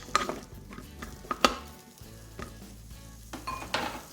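Chorizo fries in a Cookeo multicooker pot, giving a steady soft sizzle broken by sharp clinks and scrapes as it is stirred, close up and with no voices.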